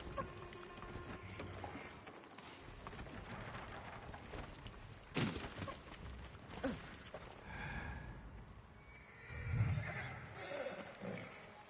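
Horses whinnying and snorting with clip-clop hooves in the samurai video game Ghost of Tsushima, set over a steady outdoor ambience, with one louder neigh late on.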